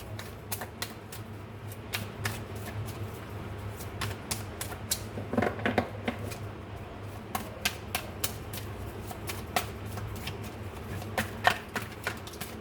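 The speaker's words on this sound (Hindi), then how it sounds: "चलिए ट्रू लव ओरेकल डेक से देखते हैं क्या कार्ड्स आते हैं।" A True Love oracle card deck is shuffled by hand, giving a long run of quick, crisp card riffles and clicks close up over a low steady background hum.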